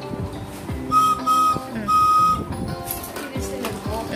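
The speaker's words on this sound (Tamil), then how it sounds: "நான் விசில் பண்ண" A toy whistle being blown in three short bursts, each a steady, shrill, piercing tone, loud and close over background chatter and other noise.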